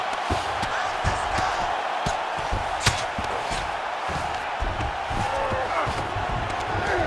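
Virtual arena crowd in EA Sports UFC 5 during a Georges St-Pierre vs. Khamzat Chimaev bout, a constant murmuring roar with scattered thumps and swells of reaction, heard under a commentator's voice.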